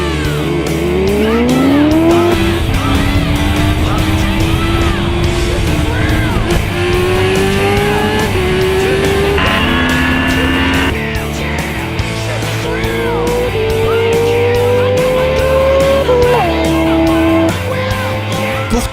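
A Kawasaki Ninja H2R races a Suzuki Hayabusa, with loud high-revving engines climbing in pitch again and again through rapid gear changes, sustained and close throughout.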